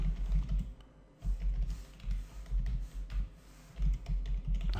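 Fingers typing code on a computer keyboard while building a PHP website: quick, uneven runs of close key clicks with brief pauses, clear and steady, with no speech.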